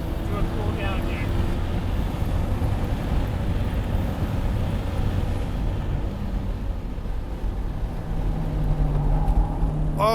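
A Mazda Miata is driven hard on a race track during a hot lap, with a continuous loud engine roar and heavy wind noise throughout and a little talk.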